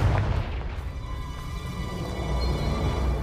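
A Confringo blasting spell goes off in Hogwarts Legacy, a dull booming explosion with a low rumbling tail that lingers under a steady hum of game ambience.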